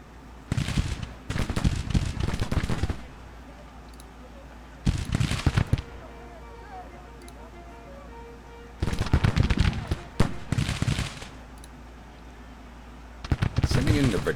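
Massed infantry division musket fire in Grand Tactician: The Civil War, rolling in several dense crackling volleys of a few seconds each, separated by quieter stretches of battlefield ambience.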